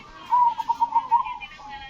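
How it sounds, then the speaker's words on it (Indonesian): A zebra dove (perkutut) kept as a cage bird, set out in the midday sun, gives a rhythmic series of soft, rolling coos lasting about a second, close by and fairly clear against a quiet background. "Perawatan burung perkutut di siang hari ya, jemur burung perkutut."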